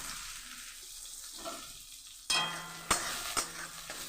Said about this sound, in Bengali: পটল ভাজার তেলে আমি পেঁয়াজগুলোকে ভেজে নেব পেঁয়াজ কাঁচা লঙ্কাগুলোকে সব ভেজে নেব লাল লাল করে